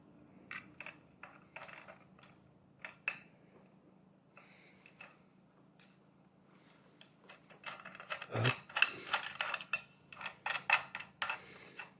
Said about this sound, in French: Puis on va pouvoir remettre les écrous de l'axe, les préserrer.